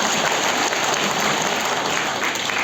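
An audience at a ceremony honouring Hindu families from Pakistan claps steadily, a dense, loud, continuous patter of many hands with no voices over it.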